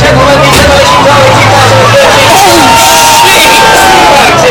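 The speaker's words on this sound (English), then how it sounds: "Give them a round of applause, give them a shout." A crowd at a demolition derby on the Isle of Man cheers, whoops and shouts loudly and continuously, a dense roar of many voices close by, with an announcer's voice briefly over the noise at the start.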